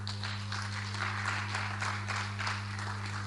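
A university campus meetup crowd in Nigeria claps, a soft, distant patter of hands over a steady low electrical hum.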